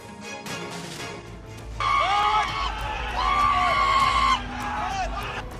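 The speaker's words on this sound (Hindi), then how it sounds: "लोग हुड़दंग मचा रहे हैं, चीख रहे हैं, चिल्ला रहे हैं, शोर मचा रहे हैं" A crowd shouts, yells and screams in uproar inside Jale police station in Darbhanga. The noisy mass of voices swells and stays loud and close, with some piercing cries rising above the babble.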